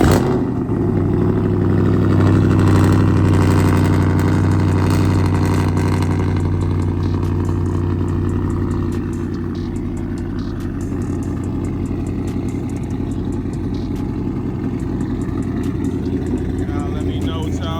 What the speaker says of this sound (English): We're gonna go ahead and give y'all a cold start first because I have not started the car up all day